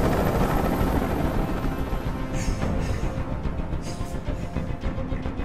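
A helicopter hovers close overhead in the video game Detroit: Become Human, a loud, continuous rotor roar that holds steady and slightly eases toward the end.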